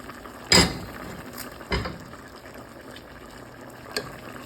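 Chicken curry being stirred in a pot: a few sharp clinks of a utensil against the metal, spaced apart, over a soft bubbling background.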